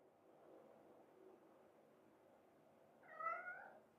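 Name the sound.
cat meowing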